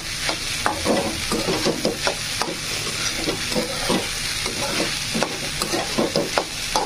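Khichdi is stirred and fried in a pan, with repeated spoon scrapes and thick stirring strokes in an uneven rhythm over a low sizzle, close and fairly loud.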